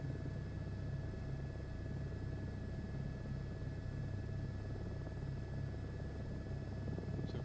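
An H125 helicopter flying in Microsoft Flight Simulator 2024 gives a steady, even rotor-and-turbine drone with a constant whine, unbroken and close throughout, with no voices.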